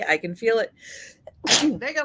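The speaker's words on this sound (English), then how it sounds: "So excuse me for the sneezing." A single sharp sneeze bursts out between bits of a person speaking, close and loud.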